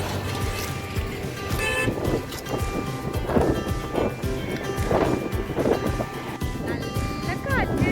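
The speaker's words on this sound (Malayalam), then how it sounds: "നല്ല കാറ്റാ." Strong wind blowing by the sea near the old Pamban bridge on the way to Rameswaram, a constant rushing roar with microphone buffeting and surf beneath, while voices talk faintly under the gusts.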